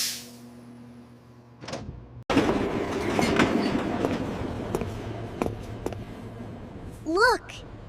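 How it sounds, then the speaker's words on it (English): A train stands at a station, its low rumble and clatter rising sharply after a brief quiet, a sliding door thumps, and a rising tonal chime or signal sounds near the end while people talk nearby. "The big train is very beautiful."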